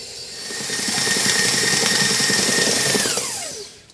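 A hand or stand electric mixer whirs steadily through gluten-free cake batter for a wedding cake, its motor holding a constant whine before spinning down to a stop near the end, with no talking.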